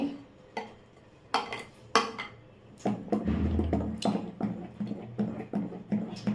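Urad dal and green gram batter with salt is mixed in a bowl, heard as sharp, rhythmic clinks and scrapes of a spoon against the vessel, with a soft wet churning between strokes and no voices.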